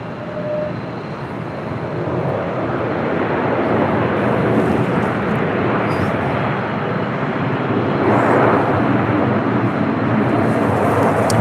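A Delta heavy airliner departs from LAX, a steady, broad roar that holds for the whole stretch and swells slightly toward the end, with no voices over it.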